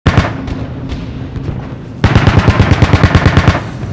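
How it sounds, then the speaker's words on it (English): Anti-aircraft gunfire in a World War II war drama, loud rapid bursts of shots with a booming first volley and a faster rhythmic string of pops in the second half, close and dominant without speech. "Those anti-aircraft guns have a very distinct sound, don't they? It's a different pop than usual."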